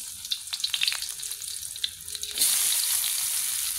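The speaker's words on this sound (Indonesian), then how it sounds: "Setelah itu kita goreng bawang putih dan bawang merahnya ya." Garlic and shallots fry in oil for an Indonesian vegetable dish (lodeh) with light clinks and stirring at first, then a sudden loud, steady sizzle as they hit the hot oil and keep frying.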